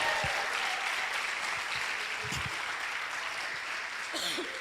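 Congregation at a church convention applauding, a steady wash of clapping from a crowd that carries on through the whole moment.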